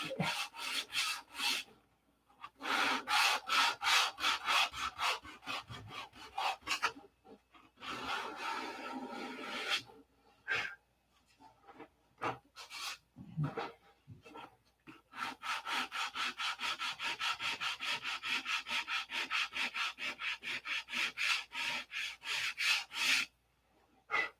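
Sanding out fillets on a model: long runs of quick, rhythmic abrasive strokes close up, broken by short pauses and a stretch of slower rubbing before the rapid back-and-forth resumes.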